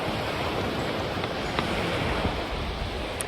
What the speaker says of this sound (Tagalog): Ito nyo naman ang alon